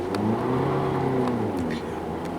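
A 2018 Hyundai Ioniq Hybrid accelerating, with a steady, loud engine drone whose tone climbs and holds as the car picks up speed, heard from inside the cabin.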